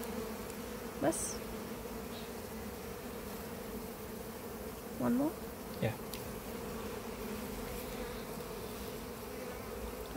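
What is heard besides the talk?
honey bees buzzing at a beehive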